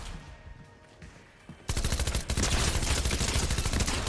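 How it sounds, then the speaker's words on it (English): Shotgun blasts from a pump-action weapon in Fortnite, coming as a dense run of loud, close reports with a brief quiet stretch before them. "This is like a pump shotgun."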